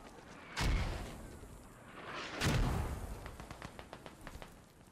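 Enemy gunfire in the Squad military shooter: two heavy distant-sounding shots or blasts a couple of seconds apart, each with a long rolling tail, followed by faint scattered crackling.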